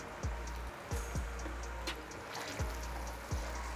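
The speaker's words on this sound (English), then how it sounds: "I just want this to fry for a bit" Tomato and onion frying together in a pan, a steady soft sizzle broken by several low thumps and scrapes at irregular intervals.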